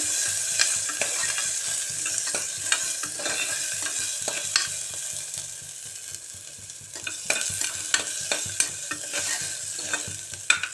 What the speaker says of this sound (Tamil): போட்டு நல்லா வணக்குங்க. அந்த வெங்காயத்தோட பச்சை வாசம் போகிற அளவு வணக்கிடுங்க